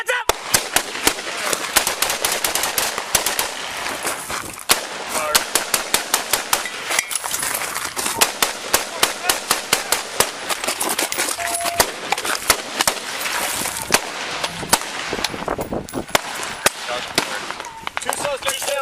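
Rapid gunfire during a police shootout, dense sharp cracks in bursts and single shots throughout, loud and sustained, with shouting voices mixed in.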